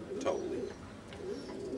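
Pigeons coo softly nearby, a few low, throaty, rolling calls heard against quiet background noise.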